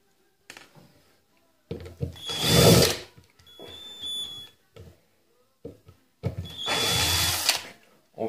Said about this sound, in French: on va les percer à la perceuse à colonne.